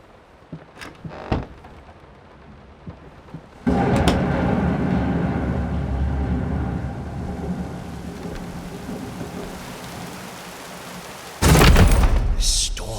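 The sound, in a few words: thunderstorm and rain in the video game Layers of Fear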